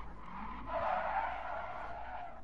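Tires of a Subaru WRX squeal in a sustained skid while drifting in the racing game Gran Turismo Sport, a steady screech over a low engine drone lasting a couple of seconds.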